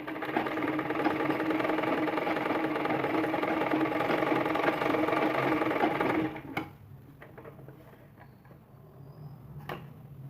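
Sewing machine stitching piping onto a blouse, a steady, close mechanical whir with rapid needle rhythm for about six seconds, then stopping, leaving faint clicks and fabric handling.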